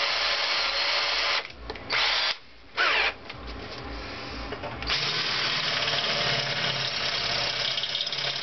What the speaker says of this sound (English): Then I drill a hole